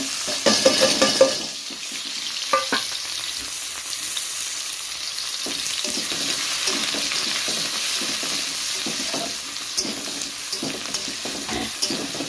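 Onion and green chilli frying in a hot wok, a continuous close sizzle with stirring scrapes and light utensil knocks against the pan, steady throughout with a few sharper clatters, no voices.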